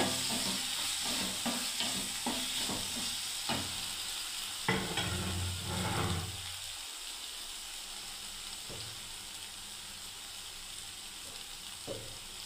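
Pointed gourd pieces sizzling in hot oil in a pan while being stirred, with a cluster of scraping spoon strokes early on before the frying settles into a softer, steady hiss with occasional taps.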